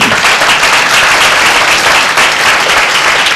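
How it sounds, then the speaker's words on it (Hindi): Loud, sustained applause from a church congregation during a Sunday worship meeting, dense steady clapping filling the whole stretch without break. "क्या जोरदार ताली दे।"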